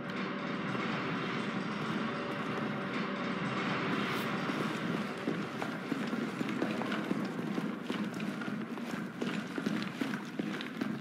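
A subway train in the video game Resident Evil 3 Remake rumbles and clatters steadily, a dense rolling rail noise that continues unbroken throughout.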